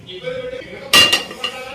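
A pressure cooker set down onto a kitchen stove while cooking chicken keema sambar, giving one sharp metallic clunk with a quick rattling after-clink, then a faint knock against quiet kitchen background.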